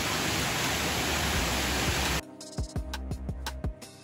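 The Cenghen waterfalls near Abbadia Lariana give off a dense, steady roar of rushing water for about two seconds. The roar then cuts off abruptly and gives way to plucked music.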